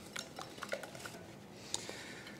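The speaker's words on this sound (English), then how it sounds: "Just whisk that in," Eggs and granulated sugar being whisked in a mixing bowl for cookie batter, a soft rhythmic clinking of whisk against the bowl with light tapping, fairly quiet and close, no voice.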